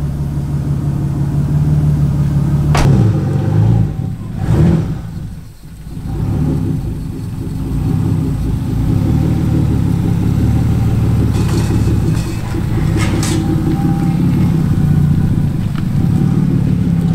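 A car with a swapped-in Lexus 3UZ-FE V8 starts up and revs, settling into a loud, steady low rumble that swells and dips between throttle blips.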